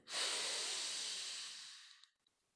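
A long, slow, airy exhale during a qi gong breathing exercise, a steady soft hiss that fades out after about two seconds, followed by near silence.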